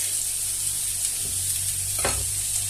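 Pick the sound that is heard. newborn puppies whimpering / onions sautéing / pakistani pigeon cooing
onions sautéing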